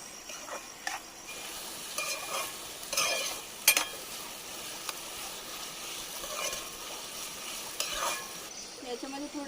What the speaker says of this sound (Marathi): कांदा थोडासा लाल झाला आता टाकूया टोमॅटो